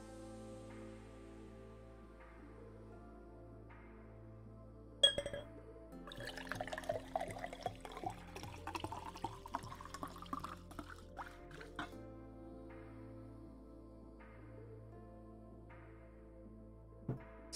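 Water being poured into a glass for a drink, a trickling, gurgling fill lasting several seconds, faint and close, over a quiet background hum.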